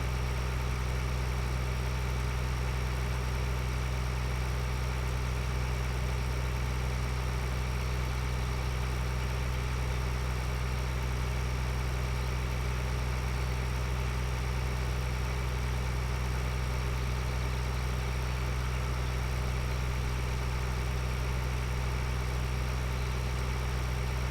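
A tractor engine idles steadily in the video game Farming Simulator 2013, a continuous low droning hum with even vibration throughout and no talk.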